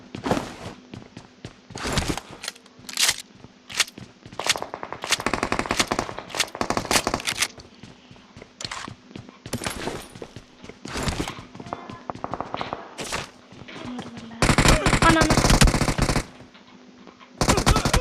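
Video game machine gun fire in short rattling bursts and single shots, loud and near, ending in a longer sustained burst of rapid fire.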